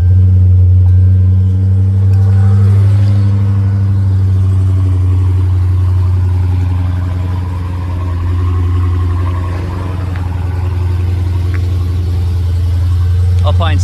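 A 2018 Dodge Challenger T/A with the 6.4L V8 idles after a cold start, a loud, steady low rumble close by that rises and settles slightly over about fourteen seconds, with a brief rise near the end.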